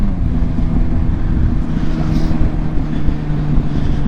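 A 20-year-old naked street fighter motorcycle engine drones steadily and close, a continuous mechanical hum with rumbling low end and some wind buffeting, no talking.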